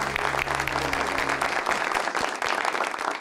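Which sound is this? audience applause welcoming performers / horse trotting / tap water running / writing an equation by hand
audience applause welcoming performers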